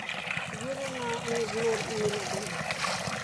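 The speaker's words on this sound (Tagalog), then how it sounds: "Uy, parang lumakas ang tubig ngayon." Water flows strongly from a spring, a steady rushing trickle and splash heard close up beneath people talking.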